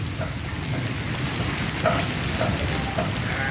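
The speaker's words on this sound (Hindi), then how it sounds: "बारिश" Heavy rain pours steadily during a monsoon downpour at a home, a dense continuous hiss with scattered drips and splashes on hard surfaces, close and loud throughout.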